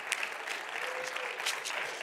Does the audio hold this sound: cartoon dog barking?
no